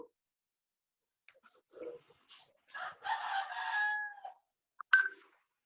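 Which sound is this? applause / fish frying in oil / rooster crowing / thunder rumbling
rooster crowing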